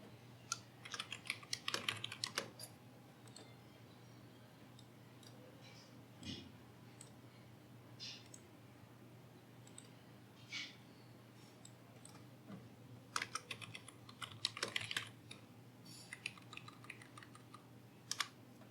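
Computer keyboard typing and mouse clicks during work in Ansys simulation software, coming in scattered bursts of quick taps separated by quiet pauses, fairly close but soft.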